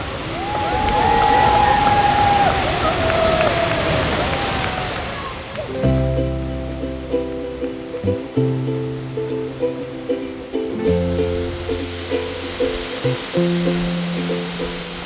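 Seljalandsfoss waterfall in southern Iceland roars as a loud, broad rush of falling water for about six seconds with voices faintly over it, before music takes over.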